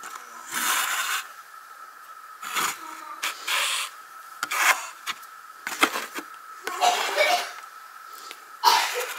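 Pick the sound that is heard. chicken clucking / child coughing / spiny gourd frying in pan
child coughing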